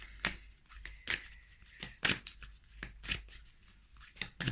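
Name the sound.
tarot cards being shuffled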